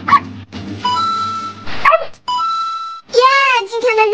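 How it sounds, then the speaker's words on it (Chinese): Several small stray puppies yip, whine and whimper close by in high, wavering cries, short bursts broken by brief pauses. "哎，又来了几只小狗狗。"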